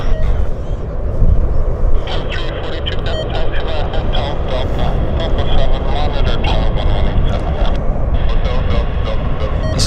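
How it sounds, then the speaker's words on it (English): Air Canada Airbus A320-family jet airliner at Vancouver airport, a loud, steady broadband engine roar sustained throughout, with a voice talking over it. "we do have an Air Canada. It looks like an A320 on the button here"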